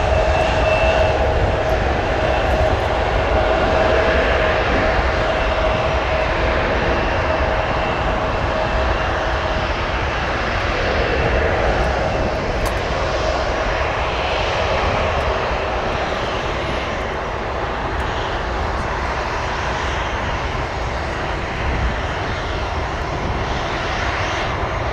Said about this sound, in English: 747 will be departing soon.